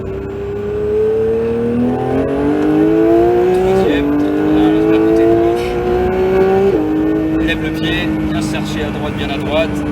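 Porsche 911 GT3 (992) accelerating hard on a race track, engine note climbing steadily through the gears with sharp shifts, loud and close from inside the car, with a voice speaking over it.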